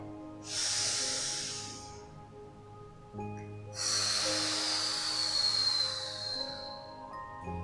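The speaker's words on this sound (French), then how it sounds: "je descends mon petit doigt et je souffle pour descendre la montagne" Long exhalations from a children's yoga breathing game, two sustained breathy blows, the second longer, close and clear against a faint background tone.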